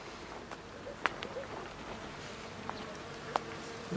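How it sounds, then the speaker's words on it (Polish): Bees in an overwintered hive on a cloudy day give a quiet, steady hum with a few brief sharp clicks over it, faint and continuous. "ta pszczoła jest troszeczkę spokojna"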